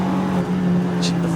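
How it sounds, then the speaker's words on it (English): A Lamborghini GT race car, the Red Bull Abt entry, runs downhill at speed during a Nürburgring 24 Hours qualifying race, its engine a steady, loud drone throughout while a commentator talks over it. "Of the Lamborghinis, that's the Red Bull Abt car, that's Mirko Bortolotti going down the hill"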